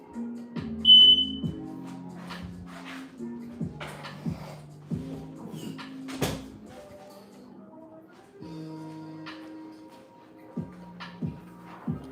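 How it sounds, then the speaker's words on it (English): A household smoke detector sounds repeated shrill beeps near the start, followed by electronic tones in short stepped patterns that start and stop irregularly, fairly close and moderately loud, with little talk. "I had the smoke thing going off"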